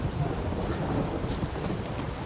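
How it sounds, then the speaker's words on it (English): Steady light rain with rumbling thunder in the video game The Witcher 3: Blood and Wine, a continuous wash of patter and low roll, fairly loud and close, with no voices. "By Velen standards, it's not really rain, is it? That's a light sprinkle,"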